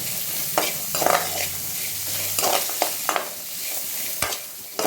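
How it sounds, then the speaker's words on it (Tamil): Small onions sizzle in a pan for a murungai keerai poriyal, with a steady crackle of frying broken by stirring scrapes and light taps of a spoon against the pan. "இப்போ வெங்காயம் நல்லா வறுபட்டுடுச்சு"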